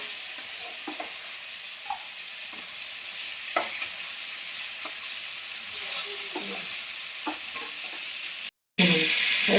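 Katla fish and kohlrabi fry in oil in a pan, a steady close sizzle with repeated scraping taps of a spatula stirring, a brief silence near the end, then louder sizzling.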